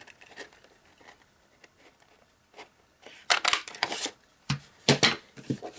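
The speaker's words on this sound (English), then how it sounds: "This time I need to punch out a 1 inch circle" Paper punch cutting a 1 inch circle from designer series paper, heard as soft paper rustling followed by a cluster of sharp, close clicks and crunches as the punch presses through.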